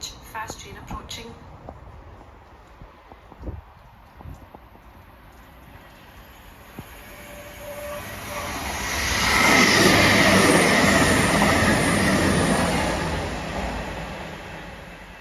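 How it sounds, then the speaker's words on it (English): Quiet station ambience with a voice early on, then a fast train roars through, its rushing noise swelling loudly before easing away. "Fast train approaching."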